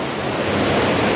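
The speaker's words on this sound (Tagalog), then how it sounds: "nagagasa na tubig, no?" Floodwater rushing at a water breaker of a Mindanao flood control structure: a loud, steady broadband roar of moving water, close to the microphone and with wind buffeting, no voices.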